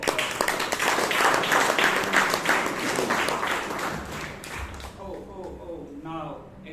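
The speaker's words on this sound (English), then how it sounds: "A round of applause." Members at a Bangalore Toastmasters club meeting give a full round of applause, dense and loud for about four seconds before it dies away and a voice begins speaking.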